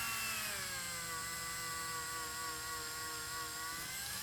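A small rotary tool polishes garnets with green polishing compound, a steady high motor whine holding one pitch throughout, quiet and close, with no voices.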